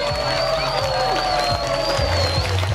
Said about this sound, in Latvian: Aplausi viņiem